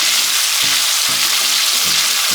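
Scallion frying in oil in a pot for a Jamaican pot roast beef, a steady loud sizzle and crackle running throughout, with occasional low stirring thumps beneath.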